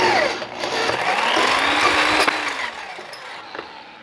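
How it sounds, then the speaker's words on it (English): A drill reams out a freshly punched hole through the steel subframe of a KLR650 motorcycle, a steady high-pitched grinding whine held close and loud for several seconds, easing off near the end. "So I'm going to kind of ream it out here just a little bit on this end."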